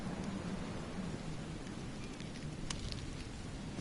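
Rain falls in the video game The Sinking City as a soft, even hiss with a faint low rumble underneath. It is steady and fairly quiet throughout, with no one speaking.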